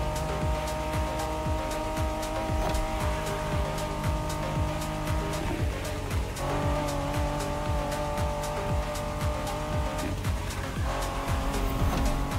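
A special Honda NSX race car in The Crew Motorfest video game, its engine revving steadily and loud with repeated gear shifts and tire squeal throughout, without talking.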